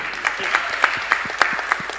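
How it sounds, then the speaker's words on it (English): Conference audience applauding its panelists, heard as a run of sharp, evenly spaced claps in a steady quick rhythm, fairly close and clear, with no talking over it. "a round of applause for my amazing panelists"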